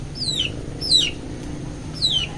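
Three short, high downward-sweeping duck calls spaced about a second apart over a steady low background hum.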